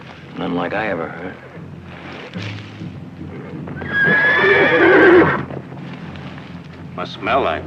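A spooked stallion neighs loudly in a long, shrill whinny mid-scene, with hoof clip-clop and restless horse noises around it and a voice speaking at times.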